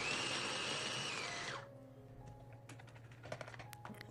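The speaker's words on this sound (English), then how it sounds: "Grind them to the desired texture, very fine or coarse, whatever way you like." A kitchen grinder whirs loudly and steadily while grinding a paste to a fine or coarse texture, then winds down and stops partway through. Faint clicks and small handling knocks follow in the quiet afterward.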